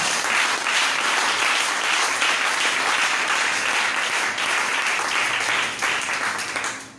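A church congregation at a divine healing seminar breaks into loud, sustained applause and cheering that fills the space evenly, then tails off at the end.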